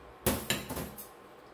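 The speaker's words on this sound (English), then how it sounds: "just going to put in the egg whites and the sugar" Egg whites and sugar going into a mixing bowl for Swiss buttercream icing: two sharp close knocks against the bowl, then a softer clatter fading out, with no talking.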